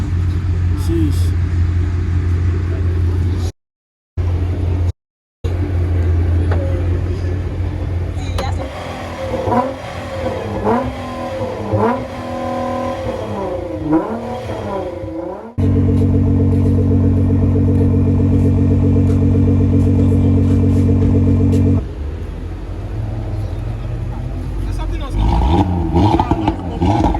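A Ford Mustang GT rumbles through city streets in Accra, its engine revving in rising and falling bursts and later holding a steady loud drone, with voices talking over it at times and a brief dropout early on.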